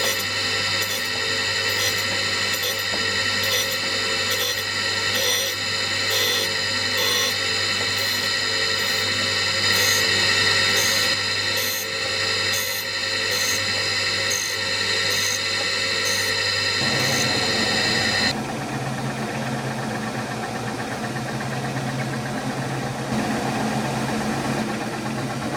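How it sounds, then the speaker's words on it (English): A surface grinder finishes a metal part in a machine shop, giving a steady, loud mechanical whine and hum with a faint repeating pulse, then shifting to a rougher grinding hiss for the last few seconds. "surface grinder, give this a lick so I've got the same finish as what I've got on that bridge piece"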